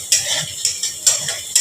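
Chopped chillies are stirred into chowmein in a pan, giving brisk rhythmic scrapes and clinks of a utensil against metal, about four strokes over a low sizzle, close and clear, with no talking.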